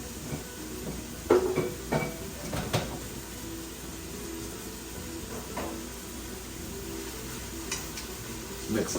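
Italian sausage and garlic sizzle steadily in a Ninja Foodi pot, with intermittent scraping and clinks as a utensil stirs the pan.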